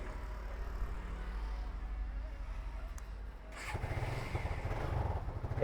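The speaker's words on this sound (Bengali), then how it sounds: "একদম সফট টাচ স্টার্ট নিবে গাড়ি" A second-hand motorcycle idles softly at first, then its engine catches with a sharp rise around the middle and settles into a louder, rougher running rumble close by.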